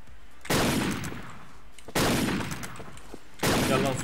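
Three loud bursts of gunfire from a shooter video game, fired unscoped, each beginning sharply and hanging on with a rattling tail, spaced about one and a half seconds apart, with no talking.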